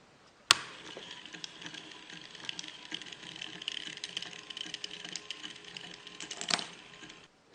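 A homemade motorized machine spins a nail around on a small wheel, starting with a sharp click and then giving a rapid, light metallic rattle and ticking that runs for several seconds before it stops, close by and fairly quiet.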